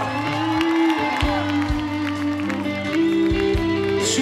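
At an outdoor university spring festival concert, the crowd claps and cheers for the electric guitarist while the band's bass-heavy music keeps playing loudly, with scattered whoops throughout.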